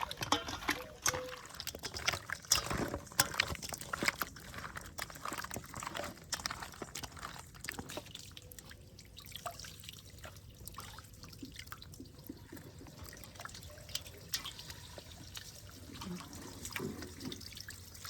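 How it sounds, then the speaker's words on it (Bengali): Boal fish pieces being rubbed and rinsed with salt and water, a steady wet splashing and trickling like running tap water throughout, with soft squelching handling and faint voices underneath. "এবার লবণ দিয়ে খানিক ভালো করে ধুয়ে নেব কারণ এই বোয়াল মাছে অনেক লালা থাকে তো ভালো করে লবণ দিয়ে চটকে ধুয়ে নেবো"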